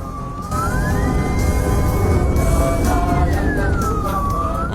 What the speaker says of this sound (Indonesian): Mendengar suara ambulans, iya, langsung memberikan ruang, ya, beri laluan